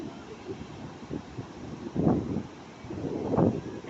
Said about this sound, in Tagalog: Ang lakas ng alon kaya